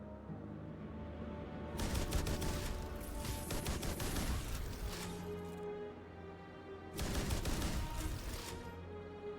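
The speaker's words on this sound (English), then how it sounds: "Machine gun." A mounted machine gun on a vehicle in the video game Starfield fires in two rapid sustained bursts of crackling shots, separated by a short pause, over a low rumbling engine bed.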